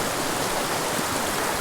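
A shallow fishing stream rushing over rocks, a loud steady broadband wash of flowing water with no pauses.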